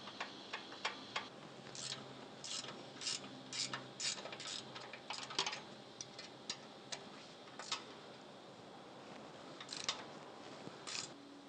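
Nuts come off a Toyota Tacoma transfer case skid plate with quiet metallic ratcheting, a series of light clicks and ticks in uneven bursts, close but faint.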